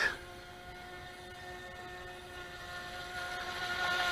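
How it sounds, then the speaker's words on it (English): Steady high-pitched whine of a Volantex Vector30 remote control boat motor, running continuously and growing a little louder toward the end, with no talking. "I'm having a lot of fun just controlling the RC boat."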